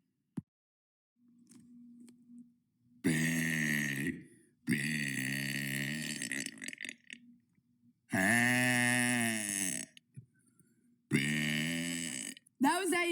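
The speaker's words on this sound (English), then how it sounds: "That was day 92 of burping for 100 days." A person lets out four long, loud, drawn-out burps at close range, each lasting a second or more, separated by short quiet gaps with faint low sounds between them.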